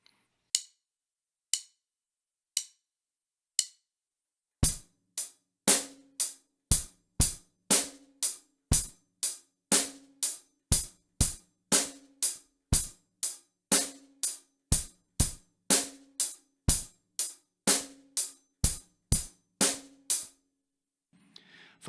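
A drum kit plays a steady beat, a few lone clicks first and then a regular sharp pattern of strikes with a varying bass drum under it, close and clear, with no talking.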